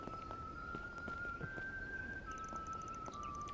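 Whistling in Trails Through Daybreak, heard in the town of Creil: a single steady, sustained whistled tone that wavers slightly in pitch, carried over a soft ambient game background with faint chiming touches near the end.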